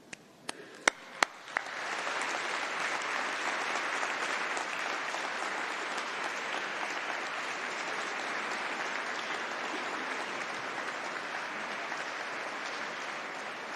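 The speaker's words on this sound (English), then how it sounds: "Graduands, please get to your feet and give a round of applause for your family and supporters." Graduands at a winter university graduation ceremony stand and applaud their families and supporters, a few sharp early claps quickly swelling into sustained, dense applause from a large hall that carries on steadily throughout.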